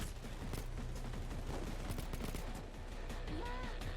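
Gunfire in the Payday 2 video game during a heist rattles in dense, overlapping bursts at moderate loudness, mixed with game sounds and some talk.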